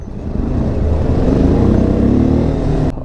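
A TVS Apache RTR 310 motorcycle, the 2023 model, revs under throttle, its engine note rising and holding for a few seconds up close before cutting off with a click.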